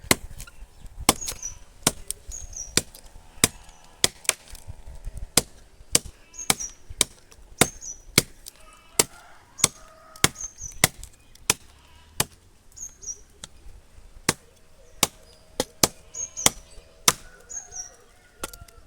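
Chopping a heavy moringa tree branch outdoors, a long series of sharp woody blade strikes at a steady, slightly irregular pace, moderately close, with birds chirping faintly in the background.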